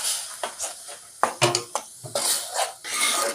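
A spoon or ladle scrapes and clinks against a cooking pan as egg gravy is stirred, giving a series of close, irregular metallic knocks and swishes with no talking.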